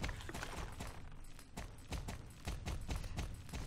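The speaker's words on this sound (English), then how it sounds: "There's a horse." A horse's hooves in Star Stable clip-clop in a quick, even rhythm, close and fairly soft, with no talking over them.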